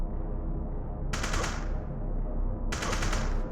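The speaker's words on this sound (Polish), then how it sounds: "No Lokdal, on mnie strzela!" Rapid automatic gunfire in a horror-style video game set around a Nazi Slenderman legend, two loud bursts of shots aimed at the player, separated by a short pause over a constant low rumble.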